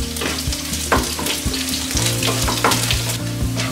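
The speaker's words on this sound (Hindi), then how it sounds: "अब हम इस पर डालेंगे कड़ी पत्ता, हरी मिर्च, इन्हें भी भून लेते हैं।" Curry leaves and green chillies sizzle loudly in a hot pan with roasting dal for a South Indian tomato onion chutney, a steady close crackle with occasional stirring scrapes and no voices.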